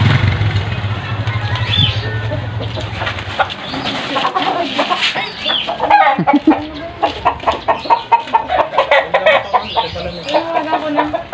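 Chickens clucking at a roadside stop during a delivery trip in Biñan, mixed with a passing motorcycle and background voices, with a run of clucks and calls getting louder and more rhythmic toward the end.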